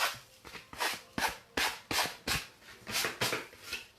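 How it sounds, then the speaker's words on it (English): A brush sweeps dried excess salt off textured watercolor paper in about a dozen quick, rhythmic scratchy strokes, close and fairly soft. "you're just going to brush off that excess salt."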